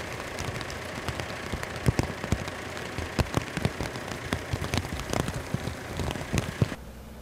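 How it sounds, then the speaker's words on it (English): Heavy rain falling in a forest during logging work, a dense continuous patter with sharp drops striking hard surfaces, steady and close throughout. "heavy rain causes the winch to catch and jump"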